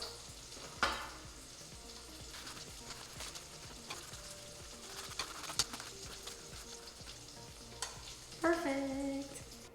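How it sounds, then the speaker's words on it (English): Bacon fries in a pan until crispy, a steady low sizzle with occasional utensil clinks and scrapes, and a louder burst near the end. "Once the bacon is nice and crispy, remove it from the pan"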